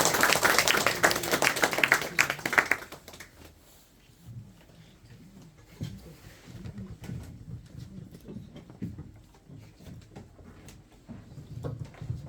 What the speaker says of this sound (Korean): 이동현 사장님 나오실 때 큰 박수 부탁드립니다.